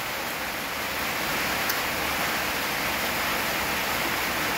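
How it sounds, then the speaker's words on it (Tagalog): Dense, steady hiss of heavy rain pouring continuously, loud and close, with no voices over it. "Lakas ang ulan oh."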